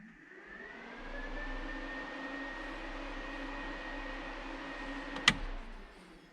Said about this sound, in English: but this is for the electric radiator fans.